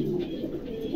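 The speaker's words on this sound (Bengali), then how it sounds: "আর দেখেন এই কবুতরও দেখেন" Pigeons give a short, soft, low cooing call, close by against a quiet background hum, with no talking.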